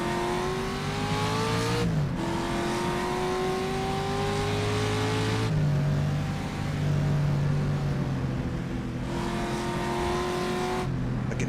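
Race car engine from the rFactor racing game at the 1967 Targa Florio circuit, droning steadily with rising gear-by-gear revs and sharp upshift breaks, loud and continuous with no talk over it.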